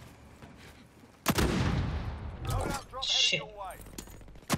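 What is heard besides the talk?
sniper rifle shots in a video game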